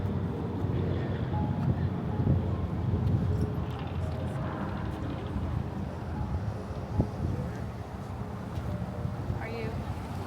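Wind blowing steadily outdoors in cold weather beside a long line of about 150 people in a parking lot on election day, a constant broad rush with faint distant background voices.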